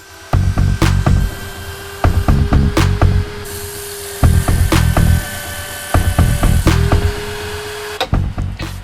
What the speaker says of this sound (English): I use my disc grinder to shape the wood flush with the tang of the knife.